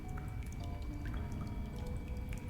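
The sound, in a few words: water running through a pipe in Darkside Detective video game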